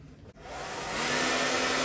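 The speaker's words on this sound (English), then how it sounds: "I'm going to hit it with a hair dryer on like cold, so that way it doesn't like heat up the plastic at all" Steady hair dryer on its cold setting blowing plastic dust off a Yuxin Megaminx puzzle core, a brief dip near the start, then a continuous close, loud rushing whoosh that builds slightly and holds.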